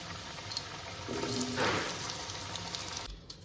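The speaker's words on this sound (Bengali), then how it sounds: "এবার এর মধ্যে আমি হলুদ লবণ মাখানো আলু সেটা দিয়ে দিলাম" Potatoes coated in turmeric and salt hit hot oil in a pan, producing a soft, steady sizzle that swells briefly and then settles into a faint, continuous frying hiss.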